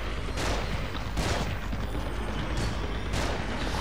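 Shotgun blasts in the horror video game The Evil Within, several loud booming shots at roughly one-second intervals with a dense, noisy game background between them and no talking.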